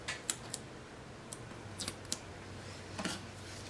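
Scissors snipping decorative paper strips for planner decoration, several quick, crisp cuts spread unevenly across a few seconds, close and quiet, without talk.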